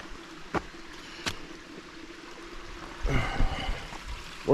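Heinlein Creek flows over rocks at a small rock crossing on the Appalachian Trail, a soft, steady rush close by with a few sharp knocks early on and a louder splashing surge near the end.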